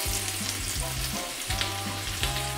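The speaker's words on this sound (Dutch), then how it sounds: "En dan schroei je hem roendom dicht." Pork neck searing in butter in a frying pan, giving a loud, steady sizzle and spatter throughout, with occasional scraping stirs and no talking.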